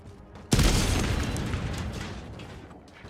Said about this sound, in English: what the hell did you just blow up?